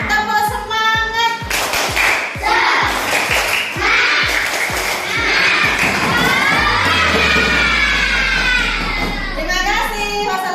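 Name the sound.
group rhythmic clapping cheer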